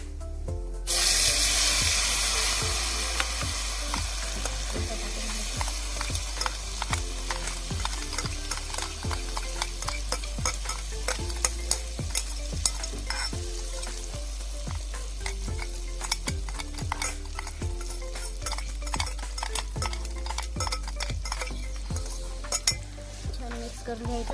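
Mustard seeds and curry leaves crackle and sizzle in hot oil while a green chilli thecha is tempered, with a steady frying hiss, rapid popping pops and occasional stirring clatter from a utensil in the pan.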